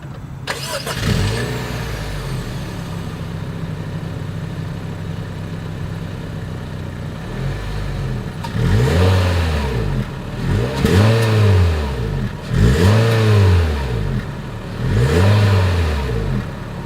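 A 2022 Honda HR-V's exhaust idles with a low burble, then revs repeatedly in rising and falling sweeps, each rev loud and close, spaced a second or two apart.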